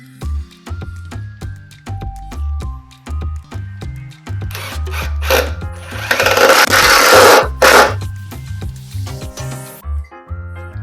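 A power drill whirs in short, choppy bursts, then runs in a longer, rougher grinding stretch as it pre-drills a hole into wood for an aquarium stand, close by.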